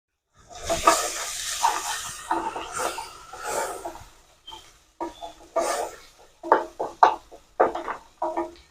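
Ingredients for mutton kulambu sauté in a pan, giving a soft hiss and sizzle broken by irregular crackling pops and stirring sounds, close by and moderately quiet.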